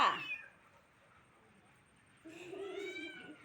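An angry cat gives two meows: a sharp, loud cry at the start, then a longer, drawn-out wail after a quiet pause.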